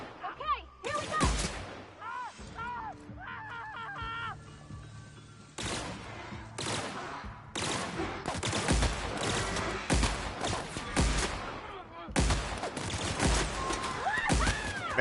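Gunfire in the video game The Outer Worlds: bursts of sharp shots and rapid volleys with gaps between, mixed with game voices and effects, fairly loud throughout.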